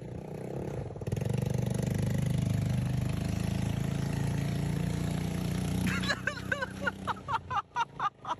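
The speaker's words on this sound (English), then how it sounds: "And then you hear a boat." A boat engine runs with a steady mid-pitched drone for several seconds, then gives way to choppy, pulsing bursts near the end, loud and close, with no one talking over it.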